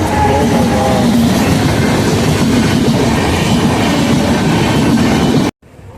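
A train rolls steadily past a closed railway level crossing, its loud, continuous rumble and rhythmic wheel clatter filling the scene until the noise cuts off abruptly near the end.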